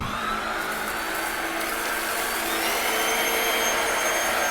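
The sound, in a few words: stick vacuum cleaner running on carpet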